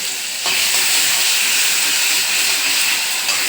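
Black cumin and panch phoron spices sizzle in hot oil, a steady, loud broadband hiss that swells after a brief start and holds throughout without speech.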